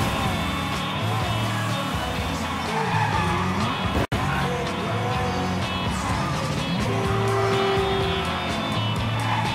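A car in the video game Mafia 3 drives hard with a loud, continuous engine drone, repeated tyre squeals and skidding as it corners, one brief dropout midway.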